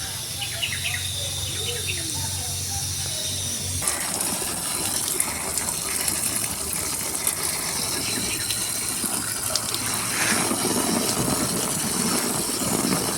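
Vegetable plants, bitter gourd and cucumber among them, being watered in a garden, a steady gushing, splashing stream of water running for most of the stretch, with birds chirping and insects buzzing in the background.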